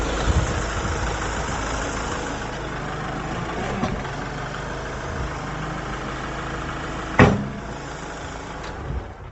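A Kubota L6060 loader tractor's diesel engine idles steadily and close by, a constant low rumble broken by a sharp clunk near the end.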